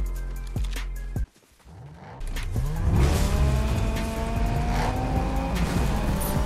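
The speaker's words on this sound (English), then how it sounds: "Driving a McLaren right now." A McLaren driven in the Fortnite video game, with an engine tone that cuts out briefly, then resumes and climbs with rising revs, tyre squeal and skidding over a loud, continuous drive.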